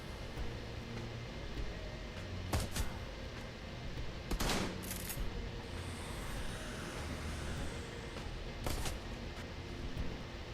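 Bursts of automatic gunfire in the Shadowrun: Hong Kong video game, sharp short volleys at intervals over a steady low background hum, fairly loud and close.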